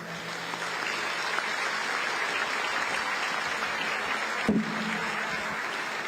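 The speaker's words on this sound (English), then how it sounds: "Can you give him a big round of applause?" Applause from the audience at a veterans appreciation luncheon, a steady wash of clapping from a roomful of people that stays even throughout, with one sharp knock partway through.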